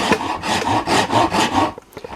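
A rasp is pushed one-handed along a yew wood bow in about five rhythmic, close, coarse scraping strokes, followed by a few lighter scuffs and taps.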